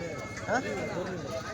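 A single short sheep bleat rises briefly and faintly through low background noise and murmuring voices at a weekly goat and sheep market in Kadiri, India.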